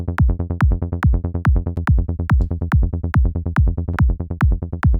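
A full-on trance bass line played on a synthesizer pulses loud and alone in a fast, steady, rolling pattern of short plucked bass notes, punctuated by regular bright clicky hits.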